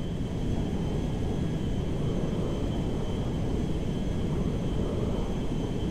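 A cargo jet's engines in the video game GTA 5 produce a loud, steady, unbroken roar with deep rumble and a faint high whine, filling the whole stretch without pause.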